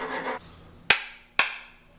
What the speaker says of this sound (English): Clean that up with the rasp a little bit